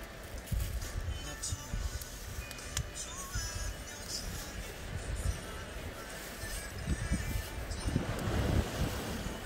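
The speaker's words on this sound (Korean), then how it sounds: "우! 파도 봐." Ocean waves breaking at a seaside beach, a steady rolling surf wash mixed with wind buffeting the microphone and swelling louder toward the end; people talk faintly at times.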